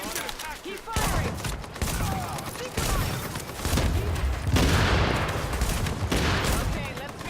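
Sustained gunfire in the shooter game The Division, with dense overlapping bursts and machine-gun volleys continuing loudly throughout, under brief voice callouts.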